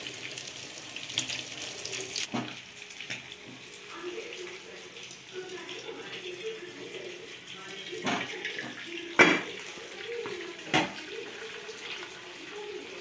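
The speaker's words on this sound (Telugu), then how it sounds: "ఇప్పుడైతే ఒక గిన్నెలోకి అయితే వంచేస్తాను ఈ వాటర్ అంతా." Starchy water from freshly boiled rice is poured off into a bowl, a soft trickling splash that runs quietly through, broken by a few sharp knocks and clatters.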